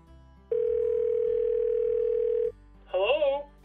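A steady telephone dial tone sounds loud and alone for about two seconds as someone picks up to make a call, preceded by a low background hum, followed by a brief burst of speech-like sound.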